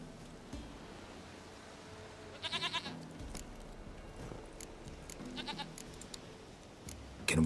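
A goat bleats in The Witcher 3: Wild Hunt, a short wavering cry rising over a low rustling ambient bed, fairly close and clear, with no talk over it.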